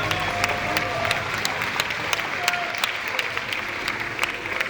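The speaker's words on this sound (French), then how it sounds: "Donc franchement, vous pouvez vous applaudir." An audience at a show finale applauds steadily, a dense close wash of clapping with some crowd noise and a voice speaking over it.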